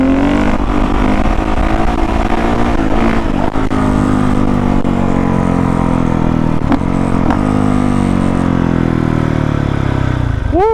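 A 2019 Honda CRF450R dirt bike engine roars loud and close throughout, holding a steady high rev with a few quick throttle blips and a sharp rising rev near the end.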